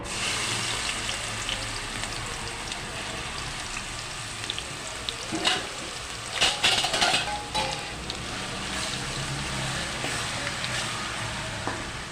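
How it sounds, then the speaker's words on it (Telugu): Onion paste sizzles and fries steadily in hot oil in a pan for a fish curry, a dense continuous crackle with a few brief stirring scrapes partway through. "ఈ ఆనియన్ పేస్ట్ అయితే బాగా ఎర్రగా వేయించుకోవాలి"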